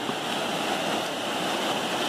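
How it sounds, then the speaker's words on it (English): A waterfall along an Appalachian Trail hike near Mt Madison pours with a steady, dense, continuous rushing hiss, close and even throughout. "Awesome waterfalls, gorgeous day."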